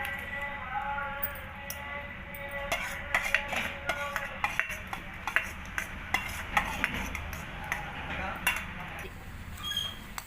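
Dried red chillies are pounded in a stone mortar for gongura chutney. Steady, repeated clacking thuds keep a regular rhythm, fairly quiet, over a faint background hum.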